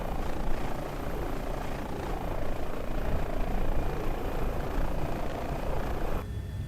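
Airbus H145 helicopter in Microsoft Flight Simulator 2020, its engine whine and rotor thrum steady and loud throughout, ending in an abrupt cut to a quieter tone near the end.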